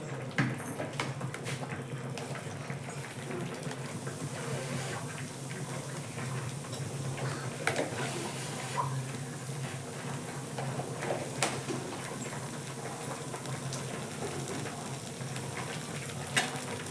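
Mustard seeds splutter and sizzle in hot oil in a home kitchen while a tomato chutney is being started, a steady dense crackle that carries on for the whole stretch with no talk over it.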